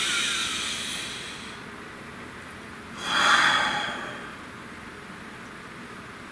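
A single deep breath, drawn and released once near the middle of a quiet spiritual reading for a tarot spread, fairly close and soft, with a faint hiss of background noise before and after.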